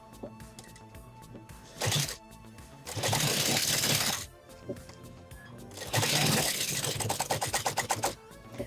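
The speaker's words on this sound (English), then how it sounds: "And now I'm going to go backwards a couple stitches. And now we can come forward." Sewing machine back-stitching the hem of leather pants: short whirring runs of rapid stitching separated by pauses, loud and close, with a brief burst followed by two longer runs.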